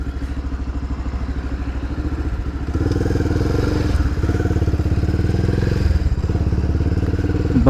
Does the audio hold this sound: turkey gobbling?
no